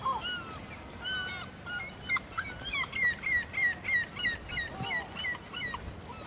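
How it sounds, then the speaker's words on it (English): Many gulls call together over a fishing harbour in Cornwall, their harsh, repeated cries overlapping at close range above a steady background rumble. "Damaged fish are thrown to the gulls."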